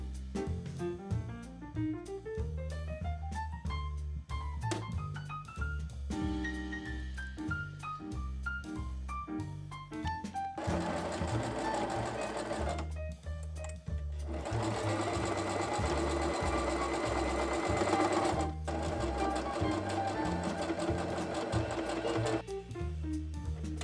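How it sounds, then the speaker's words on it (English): Sewing machine stitching darts on a simple shirt, a close rapid mechanical chatter running in bursts that speed up and slow down, with short pauses between seams and no talk. "Ironed that out and then I sewed on all the darts."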